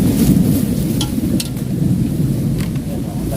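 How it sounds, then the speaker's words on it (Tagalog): A heavy rainstorm with thunder, a loud continuous roar of rain and low rumble, with a few brief sharper patters cutting through. "Uy, yan ang bagyo."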